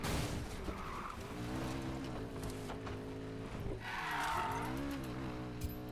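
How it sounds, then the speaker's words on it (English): Car drifting with squealing tires in the racing video game Need for Speed Payback, a steady loud engine drone with rising, wavering pitch and a swelling screech of tire squeal near the end. "It's not even a drift."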